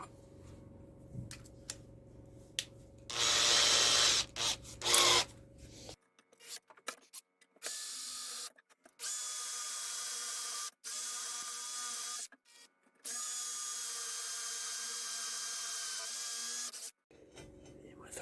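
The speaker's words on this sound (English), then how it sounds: "Now I'll chuck a pilot hole through there and then drill out, as I say, slightly bigger." Electric drill boring a pilot hole through galvanized steel on an elevator chassis, then a larger bit opening it up, heard as several bursts of whining drilling separated by pauses, moderately close.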